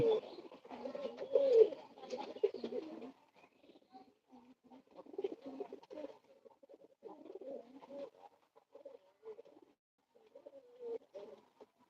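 Several pigeons coo close by in an enclosed space, low rolling calls rising and fading in irregular bursts with quiet gaps between.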